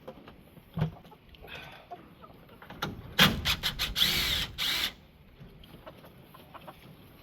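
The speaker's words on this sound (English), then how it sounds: "first I need to remove some of the old roost stuff that is in here to make room for the new ones." Old wooden roost pieces being pried and pulled out of a chicken coop, a few sharp knocks followed by a burst of loud scraping and clattering, with hens clucking faintly in the background.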